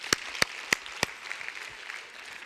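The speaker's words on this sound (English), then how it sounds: "now give yourselves a round of applause" A few sharp, loud claps ring out at the start, then a smaller, fainter spatter of clapping fades away in a roomy space.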